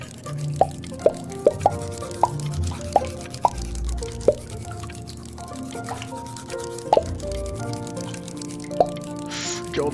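Bubbles popping in the video game Before Your Eyes, a series of sharp, wet plops and drips scattered irregularly over a steady background of game music, several distinct pops standing out clearly.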